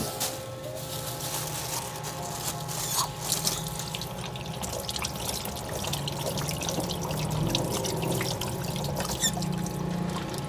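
Tap water runs steadily as pork is washed at a kitchen table, a continuous pouring and trickling wash with splashes shifting as the meat is handled, close and fairly even throughout.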